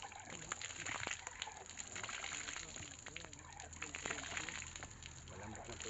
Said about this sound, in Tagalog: Napakalakas ng tubig guys